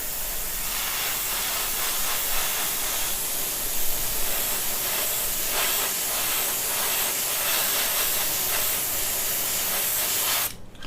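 An airbrush sprays Tamiya lacquer paint onto a Jupiter 2 spacecraft model from Lost in Space, a steady close hiss lasting about ten seconds before cutting off abruptly.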